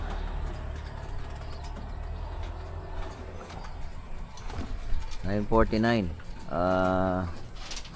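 Racing pigeons at a pigeon derby in Naga City give soft, throaty coos near the end, layered over steady outdoor background noise and a low hum, with a person talking nearby.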